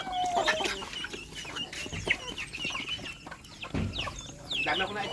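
A hen clucks and cackles while laying an egg, close and lively, with rustling and a few other fowl sounds alongside.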